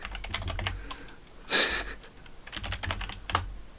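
Rapid clacky keystrokes on a mechanical keyboard fitted with GMK Goji keycaps, close and crisp, in uneven bursts with a louder heavy press near the middle.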